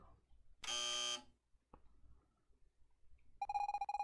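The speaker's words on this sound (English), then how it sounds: "When you hear the buzzer, move to the right" A harsh, loud electronic buzzer from the video game Evoland 2 blares for about half a second amid near silence, followed later by a pulsing, tonal alarm-like beeping.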